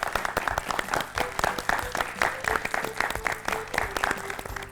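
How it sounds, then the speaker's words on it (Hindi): Continuous applause rewards a correct quiz answer on a children's educational show, brisk overlapping claps forming a busy, even wash with faint music-like tones underneath. "तालियां तालियां तालियां"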